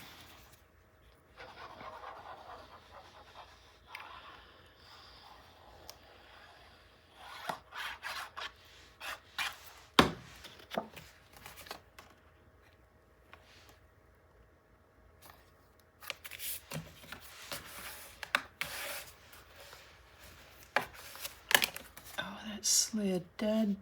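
Paper being trimmed to fit a 9 x 9 scrapbook album back panel, with intermittent scraping, rasping cuts and soft handling rustles, quiet and close, in irregular bursts.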